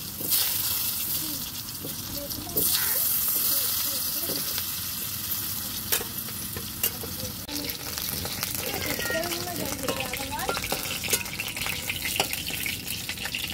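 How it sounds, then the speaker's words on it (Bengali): Potato strips frying in fish oil for a doi rui dish, a steady bright sizzle with stirring clatter running throughout, with faint talk over it. "তো এই তেলে আমি আলুটা ভেজে নেবো।"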